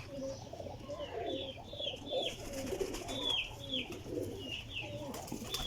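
Salara Kamgar pigeons coo in soft, repeated rolling phrases over a continuous bed of other bird calls and chirps, with steady low background noise throughout.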